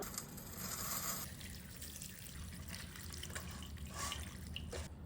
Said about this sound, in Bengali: এই চিড়েটা পরিষ্কার করে ধুয়ে নেব